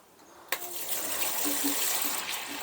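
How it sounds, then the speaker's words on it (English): Water pours into a freshly planted tomato pot in a garden, a sudden splash followed by a steady gushing flow that runs on evenly for a couple of seconds, close and fairly loud, with no talking. "when we want water, we'll water straight into this pot"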